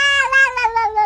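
Animated Minecraft cat gives a single drawn-out, mournful meow with a wavering, falling pitch, loud and close, with no talking over it.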